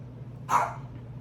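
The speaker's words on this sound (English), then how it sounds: "she's just rotten and she knows that if she barks, she'll get to go outside" A dog gives a single short bark indoors, moderately close, over a faint steady background hum.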